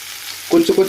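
Hotel-style chicken roast with masala is stirred in a hot pan. After a near-silent start, three quick, close stirring scrapes land over a soft sizzle.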